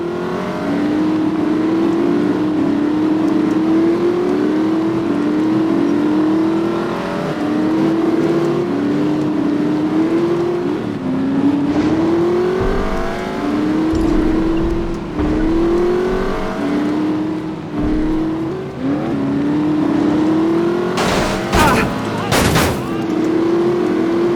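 A car in the 2009 video game The Saboteur, engine droning steadily with repeated rising gear-shift sweeps as it drives, plus a few sharp loud bangs near the end; fairly loud and continuous.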